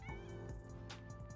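A cat in Powerwash Simulator 2 meows as it is patted, giving a few short, soft meows over quiet game background sounds.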